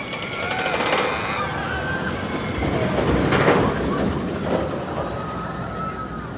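RMC roller coaster train running at Six Flags Over Texas, a steady rumbling roar with rattling wheel noise and high screeches, moderately loud, with some crowd voices mixed in.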